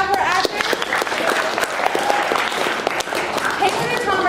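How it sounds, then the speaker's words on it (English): Studio audience applause for two improv actors being called onstage for a Whose Line game, a loud, dense clapping wash with cheers that holds steady throughout while a voice talks over it. "So clap it out for actors."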